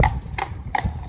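A horse's hooves clip-clop steadily on a paved public highway, the sharp, evenly spaced strikes close and clear over faint background noise.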